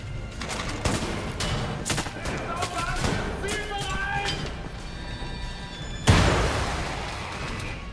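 Shotgun blasts ring out in Wolfenstein: The New Order, a handful of sharp, loud booms spread across the stretch over layered in-game music and effects, with a heavy final blast near the end.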